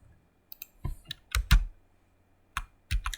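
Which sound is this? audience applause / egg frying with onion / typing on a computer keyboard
typing on a computer keyboard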